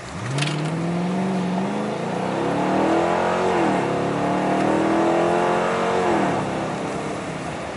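A 2015 Dodge Charger R/T on 26-inch Forgiato wheels accelerates hard from a standstill toward 60 mph, its engine note climbing steadily through rising gear-shift sweeps, loud and continuous with no talking.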